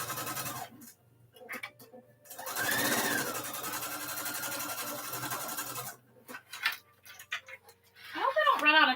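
A sewing machine running variegated thread stitches a custom sliding pencil pouch, giving a steady mechanical whirring in long bursts separated by pauses, with a person speaking at the end.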